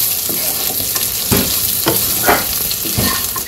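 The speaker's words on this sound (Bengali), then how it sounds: "এখন যে ভেজে রাখা মাছ গুলা দিয়ে দিলাম, এগুলো এখন একটু মিশে নেব" Fried fish pieces stirred with onion and chili in a hot pan over a village cooking fire, with a steady sizzle and a few sharp scraping strokes of the spatula, close and alone.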